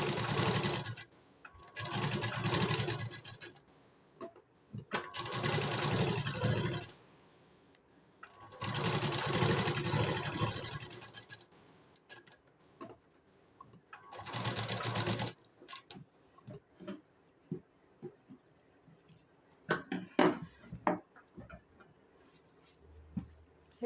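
A sewing machine stitches a blouse for a baby shower, running in four steady buzzing bursts of a few seconds each, separated by pauses, then giving way to light clicks and handling sounds with no talk.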